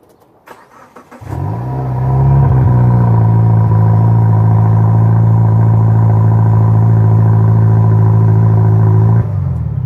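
A 2016 Subaru WRX CVT with an Invidia Q300 muffler starts and idles steadily, a deep, loud droning exhaust note holding constant for several seconds before tapering off.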